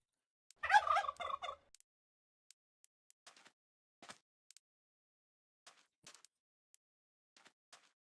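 A Minecraft turkey from the Mo' Creatures mod gives one short, clear gobble, followed by scattered faint clicks and taps in near silence.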